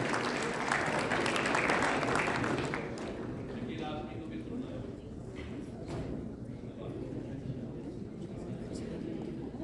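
Broad applause from an audience at a mushaira poetry gathering, strongest at the start and easing to a steadier wash of clapping that continues throughout.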